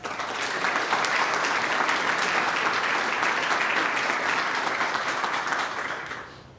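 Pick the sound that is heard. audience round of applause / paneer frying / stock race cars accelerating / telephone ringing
audience round of applause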